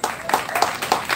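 An audience applauds at a Martinique bèlè concert at Bik Rezistans, with a short burst of steady clapping and a voice calling out over it.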